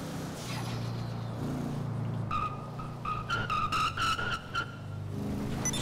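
Tires squeal in a car video game as a car spins a full 360, a series of sharp, pulsing screeches rising over a steady engine drone, loud and close with no talking.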